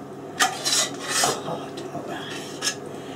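Mushroom mixture for a beef Wellington is scraped onto raw beef, giving a few close, raspy scraping strokes in uneven bursts over a quiet kitchen background.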